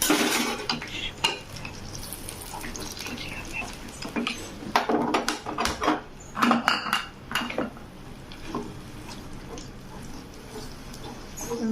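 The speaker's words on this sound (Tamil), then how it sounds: "இது மாதிரி அப்படியே பொரிச்சுக்கலாம்." A spatula scrapes and clinks against a pan as egg is fried and stirred, with a soft sizzle beneath and occasional talk.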